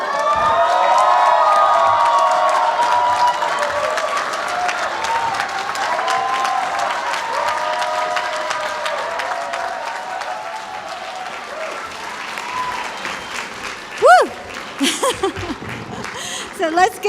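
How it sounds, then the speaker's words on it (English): Graduation crowd at a Columbia Engineering class day applauding the 2017 engineering graduate degree students, loud sustained clapping with cheers and whoops, then a few scattered shouts and voices as it fades. "So let's give that round of applause to our class of 2017 engineering graduate degree students"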